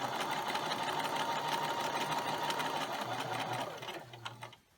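A sewing machine stitches a cloth napkin in one steady, fast, close run for about four seconds, then slows and stops.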